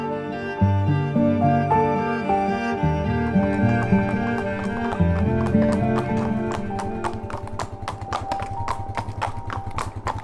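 Hooves of retired racing thoroughbreds clip-clop in a steady, close rhythm over a musical background, growing sharper and more distinct toward the end.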